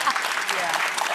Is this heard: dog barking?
no